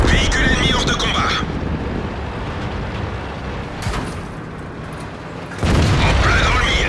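Cannon fire aimed at an enemy vehicle: a deep boom at the start, a quieter lull with a brief thud in the middle, and another heavy low blast near the end, set amid muffled rumble with voices faintly present.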